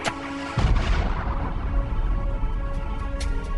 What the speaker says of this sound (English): What should have been a very minor gas explosion near a stove blew out concrete walls